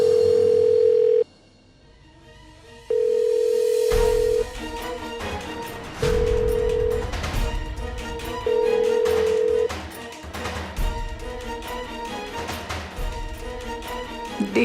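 An unanswered phone call produces repeated ringback tones, evenly spaced steady beeps separated by pauses, with background sounds between them.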